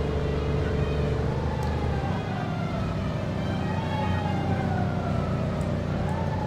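An ambulance siren in The Godfather video game wails in slow rising and falling sweeps over a constant bed of traffic and engine noise, moderately loud and continuous, with no talking.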